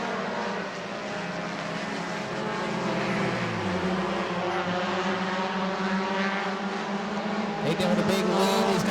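Race cars roar along the back straight at New Smyrna Speedway during the World Series, several cars three wide in a steady loud engine drone that rises slightly toward the end, with a commentator's voice underneath.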